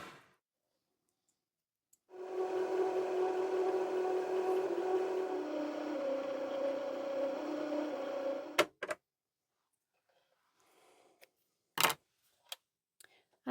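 A domestic sewing machine winds a bobbin: a steady motor whir runs for about six seconds and drops in pitch partway through, then cuts off, followed by a few scattered clicks.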